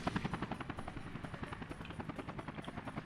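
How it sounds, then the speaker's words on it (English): Cargo helicopter in the Soviet-era city-building game Workers & Resources: Soviet Republic, a steady, fast rotor chop pulsing evenly throughout, moderately faint and heard alone. "So that's the only one cargo helicopter."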